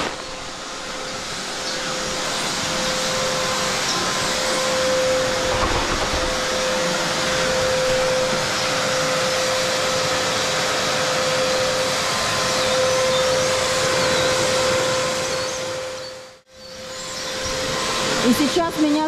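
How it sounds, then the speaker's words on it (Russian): A vacuum cleaner runs in a poultry house, its loud, steady whine and drone continuing at close range for a long stretch. A brief dropout comes near the end, and faint voices sound underneath. "это прямо вот исключительно пылесос для птичника"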